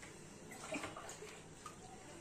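Water poured from a tumbler into a pot of rice while making egg biryani, a quiet, steady splashing stream that runs without a break, with no one talking over it.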